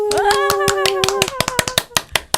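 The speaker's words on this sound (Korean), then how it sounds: "큰 박수 한번 보내드리겠습니다" Studio audience on a Korean TV variety show claps for a guest in a quick run of sharp, separate claps, opening under a loud sustained vocal whoop and then continuing alone.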